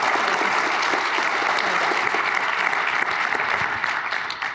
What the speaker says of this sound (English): round of applause for the group that's up here